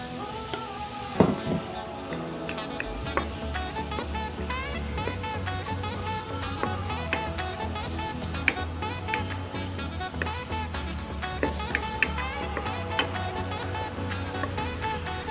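Fried rice with saluyot leaves and vegetables sizzles in a pan, a steady close crackling hiss with scattered pops and occasional stirring scrapes, with no voices over it.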